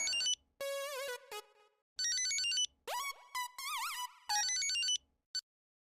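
A phone ringtone plays as a melodic electronic tune in several loud, close bursts separated by short pauses, with no voices.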